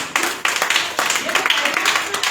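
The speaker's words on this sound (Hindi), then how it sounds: "ताली तो बजाओ" Scattered audience clapping at a full-day workshop, uneven bursts of hand claps repeating over a couple of seconds amid room noise.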